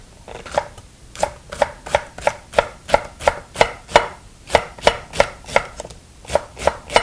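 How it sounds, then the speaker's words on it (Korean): Red cabbage being finely shredded with a knife on a cutting board, giving a fast, steady run of sharp, loud chops close by with a brief pause partway through. "보통 저는 채 썰어서 먹는 걸 좋아해서 채를 썰도록 하겠습니다"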